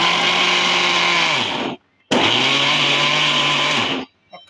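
A mixer grinder whirs at full speed crushing chilli and spice mix for a fish fry masala, in two loud close bursts that spin down sharply, separated by a short pause, with a whine that drops as the motor stops.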